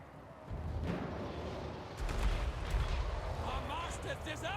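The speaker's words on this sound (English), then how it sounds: "Any units in this sort of area are getting blatted by the scrap launcher." Scrap launcher artillery firing in the Total War: Warhammer 3 video game, a series of booming shots and rumbling impacts at moderate level, with scattered battle noise in between.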